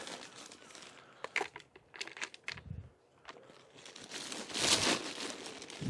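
Loose multi-purpose compost scattered by hand over the bottom of a plant pot at an allotment, a series of soft crumbly rustles and crunches rising to a denser, louder pour near the end.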